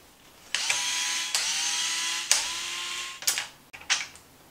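A small power driver whirs in several short runs as it backs the bumper screws out of a Traxxas Maxx RC truck, each burst a few seconds long and close by, ending in quick clicks, with no voices.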